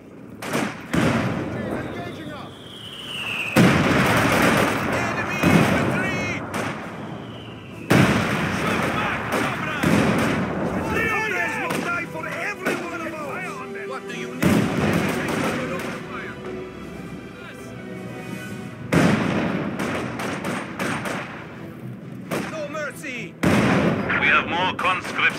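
Artillery and gunfire in the Soviet campaign of the World War II strategy game Company of Heroes 2, as a field gun fires: repeated loud booms and crackling shots in bursts, with shouted unit voice lines over the battle.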